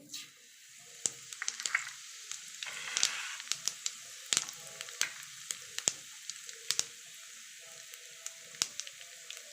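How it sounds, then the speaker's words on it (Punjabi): Cumin seeds sizzle in hot oil in a pan while cooking a potato and capsicum dish, a soft steady frying hiss broken by many sharp crackles and pops scattered throughout. "ਸਭ ਤੋਂ ਪਹਿਲਾਂ ਅਸੀਂ ਇਹਦੇ ਵਿੱਚ ਜੀਰਾ ਐਡ ਕਰਾਂਗੇ"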